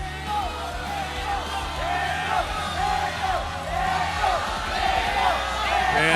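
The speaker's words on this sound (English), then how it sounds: "Wow, the crowd is chanting." A large arena crowd at a Mobile Legends esports match in the MPL Malaysia league chants and cheers in a continuous roar, heard beneath a commentator's excited talking throughout.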